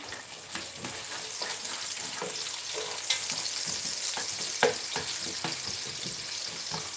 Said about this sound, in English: the next step, guys, is to stir fry the onions